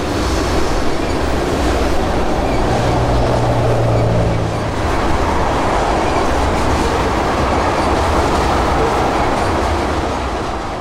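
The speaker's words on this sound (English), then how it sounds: "This train is headed for the Hookers Point Terminal at Port Tampa Bay in downtown Tampa" A freight train bound for a Tampa port terminal on the Florida S Line rolls past close and loud, a sustained rumble with rhythmic wheel clatter lasting throughout and no talking.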